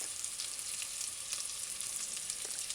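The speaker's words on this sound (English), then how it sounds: "the onions are sauteed, and I didn't say earlier, but the garlic I added it" Onions and garlic saute in a pan for an Alfredo sauce, a soft, even sizzle and hiss held close and constant with no talking.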